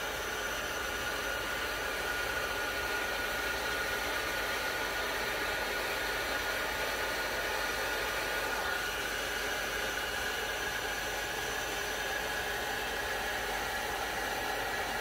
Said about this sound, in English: I'm trying to blow some of that white out of the corner.